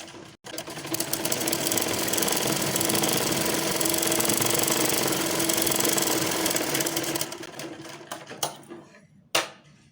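A sewing machine runs a long continuous stitching pass over garment lining, a loud steady whirring rattle that slows and stops near the end, followed by a few clicks and handling knocks.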